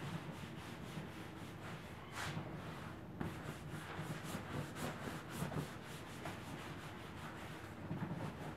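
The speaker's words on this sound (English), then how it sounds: "So we're using a scuff pad for the cleaning." Scuff pad rubbed hard across seat panels during aggressive cleaning, giving a steady, close scratchy scrubbing with a few sharper strokes and no talk.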